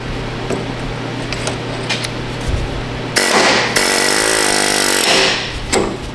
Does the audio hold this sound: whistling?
no